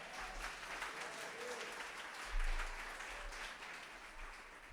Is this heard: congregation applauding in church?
yes